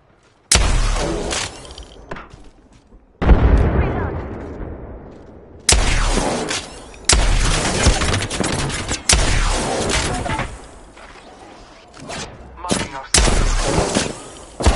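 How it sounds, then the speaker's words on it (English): Enemy gunfire in a PS4 shooter game, loud repeated bursts and volleys of shots with heavy booms and impacts, nearly continuous across the span. "Enemies are shooting at me."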